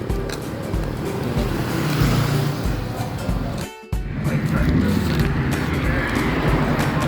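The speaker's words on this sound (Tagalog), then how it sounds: "May mga sasakyan dumadaan." Cars pass along a busy Manila street at night, their engines and tyres making a steady close traffic roar that dips briefly midway and then swells again.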